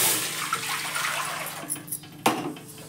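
Water is poured from a tin into a cooking pot set to heat, making a close, steady splashing pour that thins and ends with a sharp clank of the tin against metal.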